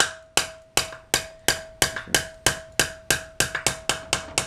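A hammer tapping parts of a Citroën 2CV engine, about a dozen sharp metallic strikes in a steady rhythm, each ringing briefly, with quicker taps toward the end, close and loud with no speech.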